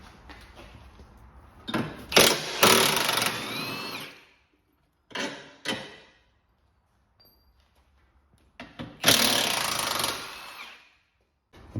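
Bursts of a power tool rattling as 18mm bolts are undone on a Fiat 500 lower arm, several loud runs separated by pauses and quieter mechanical clicks.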